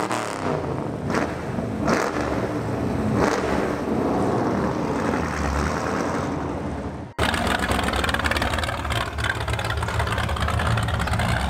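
A Maserati and a Lamborghini rev their engines as they drive past, loud roaring passes that rise and fade across a continuous engine rumble, with an abrupt cut midway.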